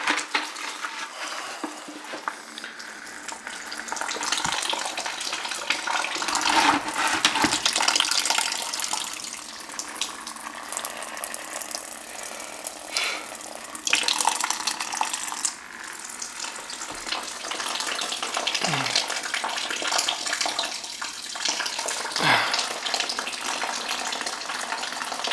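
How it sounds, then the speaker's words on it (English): Water leaks steadily from a first-floor ceiling into a bucket below, producing a continuous splashing, rushing patter with occasional sharper drips and knocks. "Well, I gotta catch that water. Hang on a minute. That's why I got the bucket here."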